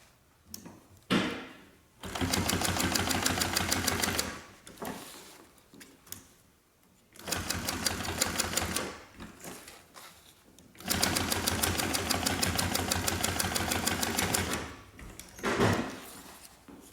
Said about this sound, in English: So let me sew these down.